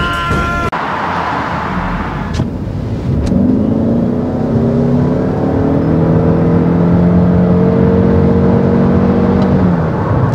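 A 2024 Toyota RAV4 PHEV plug-in hybrid SUV's engine accelerates while driving, a loud, steady interior drone with rising whirring tones building and holding, no talk.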